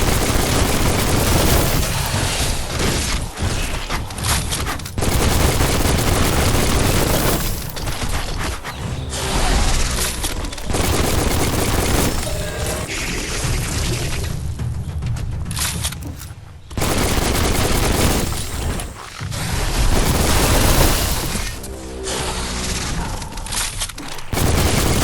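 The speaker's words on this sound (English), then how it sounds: "Bullets everywhere." Sustained gunfire in the video game Biomutant, dense bursts of automatic fire and mechanical clatter filling the scene almost continuously, with brief lulls between loud volleys.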